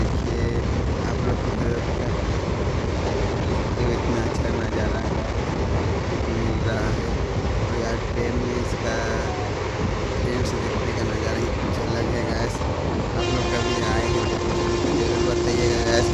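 Vishakha Express train running alongside Chilika Lake, a steady loud rumble of wheels and carriage noise throughout, with no talk over it.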